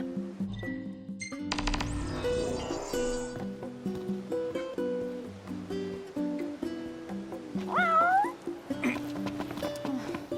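A cat in the video game Final Fantasy XV gives a short, rising meow partway through, clear over a steady bed of game music with tonal chimes and soft effects.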